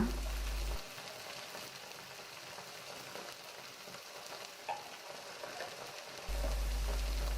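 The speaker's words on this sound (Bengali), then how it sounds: "এখন নাড়াচাড়া করে মশলাগুলো ভেজে নেব" Turmeric, red chilli and coriander powders are stirred and fried in a pan for a mutton chana dal, a soft steady sizzle with a few scraping stirs, flanked by brief spells of low steady hum.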